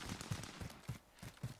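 Gunfire in the Warzone battle royale video game, a run of sharp, punchy low bursts in quick irregular succession, loud and close.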